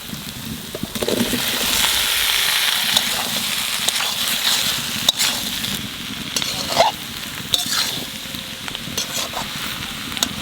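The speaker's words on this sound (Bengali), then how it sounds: "আলু ইঁচড় কষাই নিছি" Young jackfruit and potatoes fry with spices in a pan, loud continuous sizzling broken by repeated scraping and clanking stirs of a spatula, close and without speech.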